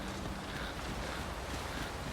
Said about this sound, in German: da ist ein Wasserfall, da geht gar nichts